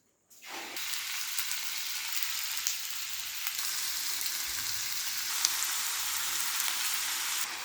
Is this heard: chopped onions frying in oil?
yes